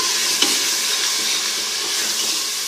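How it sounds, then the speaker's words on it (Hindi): Masala spices roasting in a pan for an aloo palak sabzi make a loud, dense, close-up sizzle with a faint hiss and one small clink early on, with no talking. "भून लेंगे इसको अच्छे तरीके से।"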